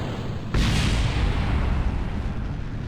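A rocket stage fires in the video game Kerbal Space Program, a sudden loud booming ignition followed by a sustained roaring rush that slowly fades, heard alone.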